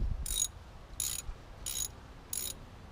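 A ratchet with a 24 mm socket loosens a large nut on a shock bolt of a 2008 Jeep Grand Cherokee. Four short, crisp bursts of ratcheting clicks are evenly spaced, close by.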